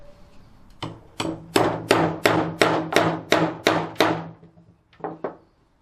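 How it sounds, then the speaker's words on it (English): Hammer blows on a metal case held on a mandrel, about a dozen sharp, ringing strikes in steady rhythm, close and loud, with a short pause before two final taps. "Now hammer it flat using the mandrel."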